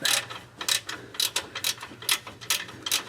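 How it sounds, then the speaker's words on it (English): A ratchet wrench tightens the long 3/8-head bolts of a by-pass filter rock guard kit on a 2011-2016 Ford F-250. Its pawl clicks close and steady in quick bursts, one short run after another, with no talking. "a couple items that'll make it a little easier to tighten these bolts up. A ratchet wrench is definitely a plus"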